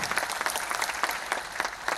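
An audience at a film's success celebration claps in a dense, steady burst that swells and dips slightly over two seconds, filling the room close and loud with no voices on top.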